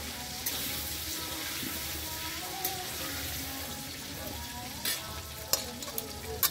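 Potatoes fry in a home kitchen, a continuous close sizzling hiss with occasional clinks of stirring utensils toward the end.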